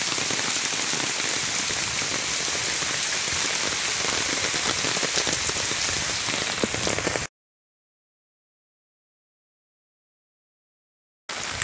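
Heavy monsoon rain pounds the ground on a hillside road near Konglak Hill, a dense, loud, steady downpour with no voices, cutting out abruptly into silence and then resuming briefly at the end.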